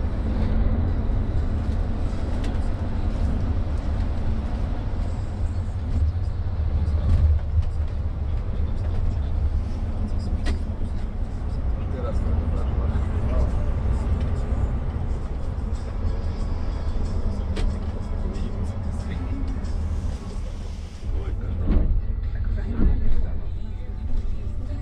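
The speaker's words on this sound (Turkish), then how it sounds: "otobüsü bindim" Intercity bus travelling from Bratislava to Vienna, a steady low engine and road rumble filling the cabin throughout, with small knocks and rattles and faint voices.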